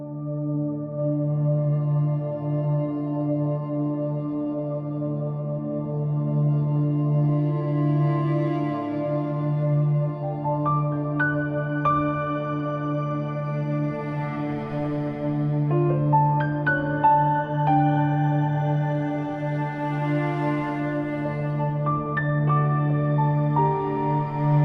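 Minimal drama film score cue: sustained soft sul tasto strings led by a cello hold a warm low drone while sparse, gentle piano notes enter gradually above, calm and unhurried throughout with no voices.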